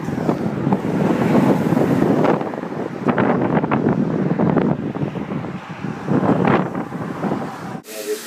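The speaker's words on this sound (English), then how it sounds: "It's very windy." Strong wind buffets the microphone in loud, continuous gusts, roaring steadily for several seconds before cutting off abruptly.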